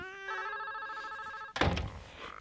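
A telephone bell rings with a steady, bright, sustained tone for over a second, then stops with a loud clunk and rattle as the receiver is handled.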